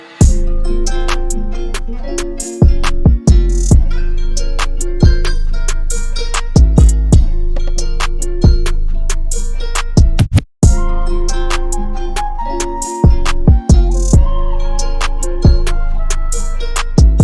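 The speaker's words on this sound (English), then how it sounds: "I've just loaded up this beat I made the other day" A loud hip hop beat plays with punchy kicks and snappy drums over a looping melodic sample, briefly dropping out twice before returning.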